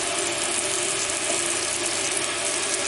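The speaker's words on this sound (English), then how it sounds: "So I'm going to now add the sliced bacon." Sliced bacon sizzles steadily in a hot pan, a dense, even crackle that stays close and continuous with no voices over it.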